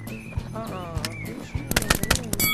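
Rapid bursts of paintball gunfire in the virtual paintball game Rec Room, a quick volley of sharp pops near the end following a stretch of voice chatter.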